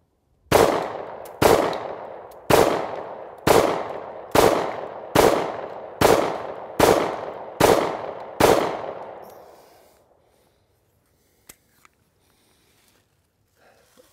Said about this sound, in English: I just kind of want you to see the gun recoil and how it handles. So let's just shoot it and see what happens here.